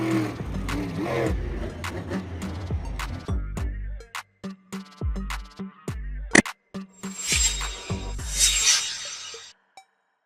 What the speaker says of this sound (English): Monster trucks are highly modified and oversized pickup trucks, designed for entertainment purposes.